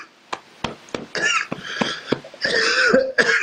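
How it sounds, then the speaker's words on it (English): Several sharp coughs and throat clearings from one person close by, scattered across a few seconds with short raspy bursts between them. "Oh dear, that made me cough."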